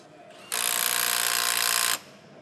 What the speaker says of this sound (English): going to use just a standard impact wrench now